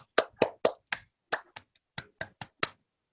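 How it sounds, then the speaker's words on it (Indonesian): A small group claps in a classroom in about a dozen sharp, separate claps, spaced unevenly and heard close in an otherwise quiet room. "Ayo tepuk tangan untuk teman kita, Feni."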